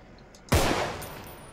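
A single loud gunshot goes off in the survival game Contagion, one sharp close crack with a booming low thump that rings out and fades over about a second.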